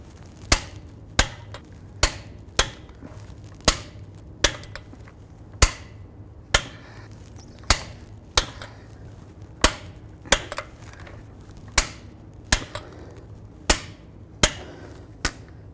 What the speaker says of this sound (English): Let's torque our lug nuts to 165 foot-pounds.